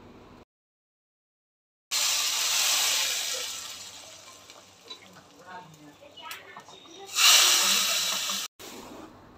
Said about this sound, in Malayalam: ഇനി കടുക് കൂടെ ചേർക്കട്ടെ.